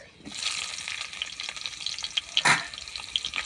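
A whole onion frying in hot mustard oil gives a bright, steady sizzle and crackle throughout, with one louder spatter burst midway, close and with no talking.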